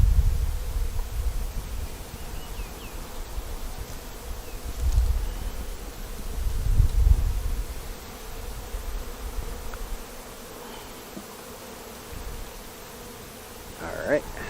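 Package honey bees in an opened hive, a dense, continuous buzzing drone with a few swells in loudness, close by and with no voices.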